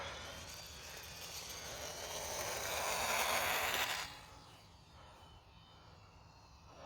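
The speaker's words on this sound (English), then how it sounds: "Okay, let's get ready for takeoff." A UMX Twin Otter RC model airplane takes off outdoors in the cold, its small electric motors giving a steady buzzing whine that swells over a few seconds and then drops away quickly as the plane moves off.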